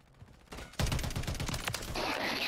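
Rapid bursts of gunfire from a weapon in a video game, a dense string of sharp cracks that starts abruptly after a brief quiet moment and continues with a sustained rattling tail.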